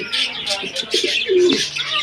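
A pigeon coos nearby, soft throaty calls mixed with a few chirps and light rustling, close up and clear.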